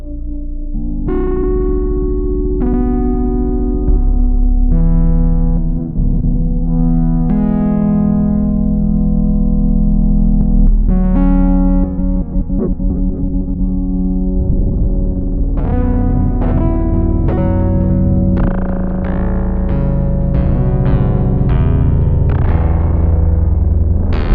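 A Polybrute analog synthesizer plays sustained tones and chords with wobbling, shifting modulation and echoing textures, loud and continuous with no voices.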